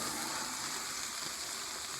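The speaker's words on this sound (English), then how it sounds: "hear that sizzling?" Faint, steady sizzling hiss, continuous and unbroken, with no voices over it.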